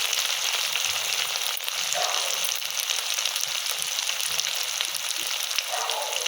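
Ginger and spices fry in a pan for vegetable biryani, a close, continuous crackling sizzle with occasional soft stirring sounds beneath it, and no one speaking.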